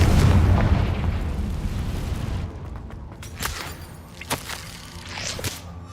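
Confringo explosive spell cast in Hogwarts Legacy: a heavy rumbling blast at the start fades out, followed by several sharp crackling bursts and whooshes.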